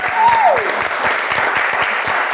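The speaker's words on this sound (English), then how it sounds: "everybody start clapping right now" An audience claps steadily at a Dallas Elite Mustangs women's football event, a loud close round of applause with a brief whistle-like tone at the start.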